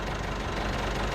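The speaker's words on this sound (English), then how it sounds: "Got the tractor here, it's ticking over. But noisy." A tractor engine idles in Farming Simulator 25, a steady, noisy low rumble that holds constant throughout without any voices.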